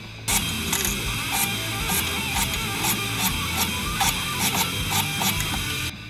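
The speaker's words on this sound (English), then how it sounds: "let me get my deburring thing" A deburring tool works drilled holes in a knife handle, making a rapid series of sharp, evenly spaced scraping clicks up close, repeated steadily for several seconds.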